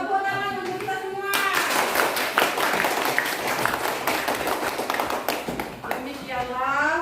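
Classroom children clapping their hands in a fast, loud burst, framed by a voice at the start and again at the end as the clapping fades.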